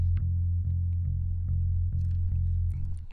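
Jazz-bass-style electric bass recorded direct and run through an Amplitube SVX Pro amp model with light compression, gain and a cut near 230 Hz, playing a steady line of repeated plucked notes, loud and alone.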